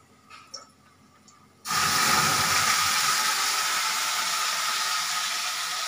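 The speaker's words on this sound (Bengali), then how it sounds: "এবারে আমি লঙ্কা বাটা দিয়ে দিচ্ছি।" Green chilli paste hits a hot pan with a sudden loud, steady hiss that starts after a quiet opening with faint kitchen clatter, for chicken cooked with green chillies.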